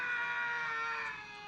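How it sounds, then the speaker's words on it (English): The Howie scream, a famous Hollywood stock sound effect: a single sustained, high-pitched shriek that holds for about a second and a half before tapering off. "And this is what the Howie scream sounds like."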